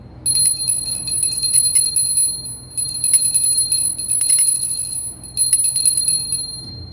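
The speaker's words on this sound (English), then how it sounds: "The bell is ringing." A bell rings repeatedly in bright, sustained bursts with short gaps between them, loud and close with no talking.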